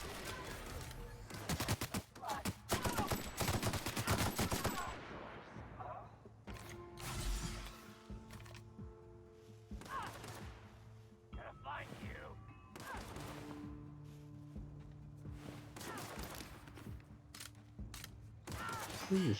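Gunfire in The Outer Worlds video game: fairly quiet, irregular volleys of sharp shots and rapid bursts, with mechanical clicks and game sounds scattered throughout.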